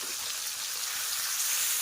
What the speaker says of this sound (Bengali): একইভাবে পরের মাছগুলো ভাজা করে নেব